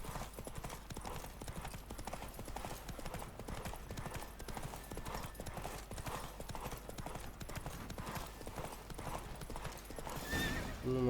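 Horse hooves clip-clop in a steady galloping rhythm through a Witcher 3 video game race, loud and continuous with game music beneath and a brief whinny near the end.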